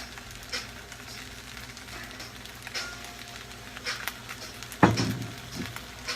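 Fried rice with soy sauce and sesame seeds being stirred in a hot pan, a steady sizzle with scraping utensil strokes and one louder clatter near the end.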